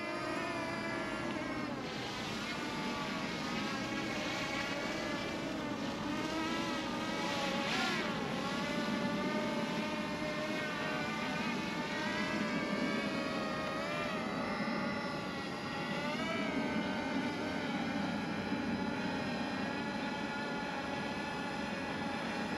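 A HolyStone HS175D quadcopter drone hovers and flies nearby, its rotors giving a steady, buzzing whine with shifting harmonic pitch that holds fairly constant throughout.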